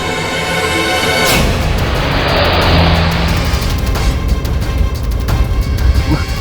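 A car engine starts up and drives, a sharp onset followed by a loud, sustained roar and rumble with a few clunks, no talking.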